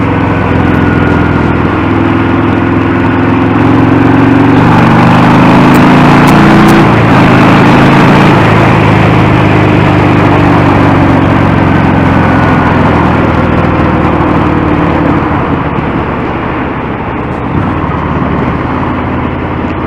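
Harley-Davidson Fat Bob motorcycle engine running on a quick ride, a loud, steady low rumble with slight shifts in pitch, alone without talk.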